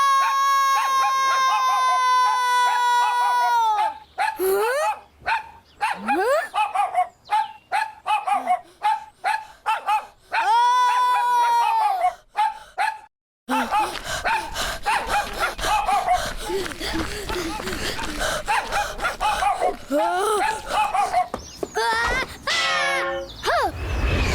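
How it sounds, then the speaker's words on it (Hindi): A cartoon dog barks repeatedly while chasing someone in a 3D animated Islamic cartoon series. The barks and yips come in quick bursts, close and loud, along with a musical tone and busy background effects. "ये कुत्ता तो मेरे पीछे ही लग गया।"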